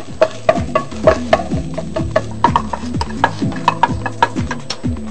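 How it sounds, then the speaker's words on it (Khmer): Dried chili is stir-fried in cooking oil for a Khmer frog dish, with a close, loud run of rhythmic spatula scrapes and clacks against the pan and a soft sizzle underneath. "ចាយើងឆាម្ទេសឆ្អើរជាមួយនឹងប្រេងឆា"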